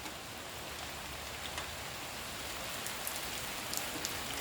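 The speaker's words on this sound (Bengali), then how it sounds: "বৃষ্টির গতি বাড়ছে" Rain falling steadily at night, a soft, even hiss of drops on leaves and surfaces with scattered individual patters, gradually growing a little denser, quiet and without voices.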